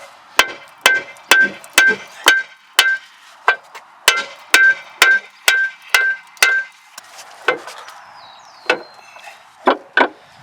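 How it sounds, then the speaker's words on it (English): Sharp metallic hammer whacks strike a Hyundai Santa Fe Sport lower control arm to knock it loose, a rapid series of about twenty ringing blows in uneven bursts, loud and close. "We're just going to give it a couple whacks to drop it down, and then we'll wiggle it out from the frame."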